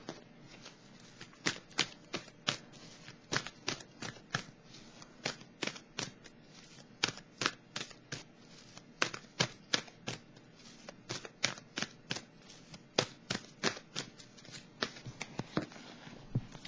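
Tarot cards are handled, shuffled and laid down in a fast run of crisp, close flicks and snaps that repeat steadily, with no talking over them.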